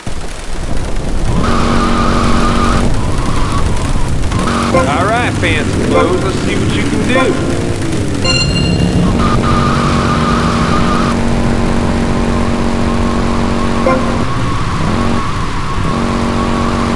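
Motorcycle engine from GTA: Vice City revving and droning continuously, loud and close, with steady engine tones shifting pitch over game music and effects, and voices talking in the middle stretch.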